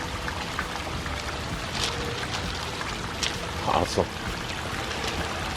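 Water splashes and trickles steadily over a small pondless backyard waterfall, a continuous close wash of flowing water, with a brief voice and a few sharper splashes partway through.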